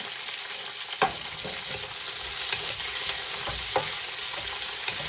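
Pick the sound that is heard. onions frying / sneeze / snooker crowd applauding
onions frying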